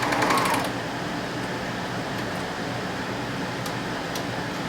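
A sewing machine, run at stitch length 2.5 with differential feed, joins the two short sides of a waistband with a steady mechanical whir after a brief louder burst at the start.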